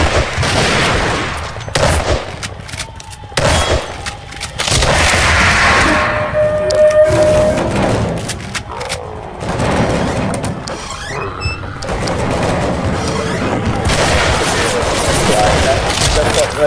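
Heavy bursts of cannon and gun fire in a zombie video game, rapid repeated blasts and crackling volleys filling the whole stretch, loud and dense, with players talking underneath.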